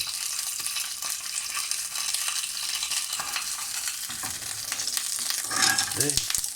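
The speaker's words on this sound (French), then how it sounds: "vous pouvez déjà entendre, écouter la cuisson de la Saint-Jacques" Scallops sear in hot olive oil with a steady crackling sizzle, and a few clinks and scrapes of stirring near the end.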